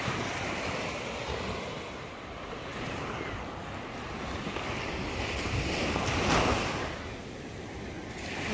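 Ocean waves wash onto a beach in a steady roar, swelling and easing, with gusts of wind rumbling across the microphone and no voices.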